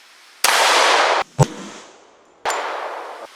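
Shots from a .45 ACP handgun with 230 grain bullets hit light steel: a sharp crack followed by a ringing clang, bracketed by two longer bursts of hissing noise, loud and close.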